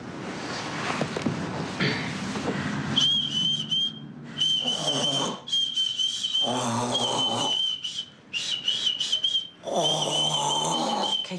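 A person whistles a melodic tune in sustained, steady phrases with short breaks, close and clear over a faint background murmur.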